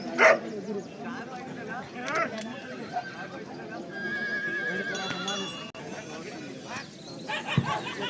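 Dogs bark several times among a crowd at a dog and horse show at a temple fair in Latur, the barks sharp but mid-distance, mixed with horse whinnies, hoofbeats and people talking throughout.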